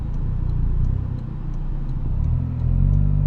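A Toyota GR Corolla fitted with an MBRP exhaust rumbles steadily at close range, its low, deep drone swelling louder near the end as the engine revs up.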